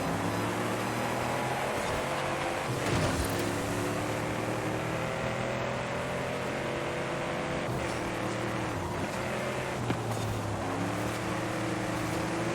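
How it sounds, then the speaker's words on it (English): A steady video game vehicle engine drone, a Halo Warthog, with shifting pitch, revving up and easing off over a constant roar, as if from a driven car; no talking. "This is what the engine sounds like."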